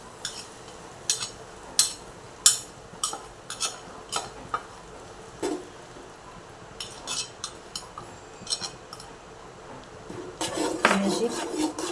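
Rice flour being stirred into melted jaggery in a pan: repeated metallic clinks and scrapes of a spoon against the pan at an uneven pace, with a busier clatter of stirring near the end.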